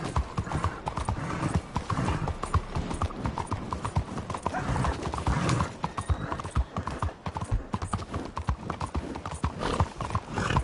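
Horse hooves clip-clop steadily and close in Red Dead Redemption 2, with a brief whinny, over a dense, busy game background with occasional voices.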